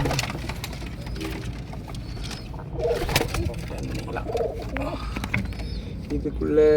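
Pigeons coo softly in a pigeon loft where chicks are nesting, with some rustling and flutter. Someone talks throughout, close by, over the birds.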